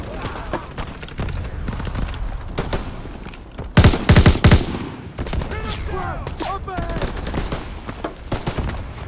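Machine gun and rifle fire in the World War II shooter Call of Duty: WW2, Rhine mission, crackling bursts throughout with a dense, loud sustained volley mid-way, mixed with battlefield clatter and shouted voices.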